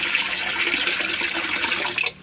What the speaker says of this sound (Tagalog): Pinupuno ko siya ng tubig.